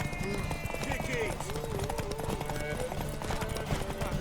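Horse hooves clip-clopping at a run in The Witcher 3, a steady galloping patter under game music and several voices talking over it, with a brief whinny-like squeal.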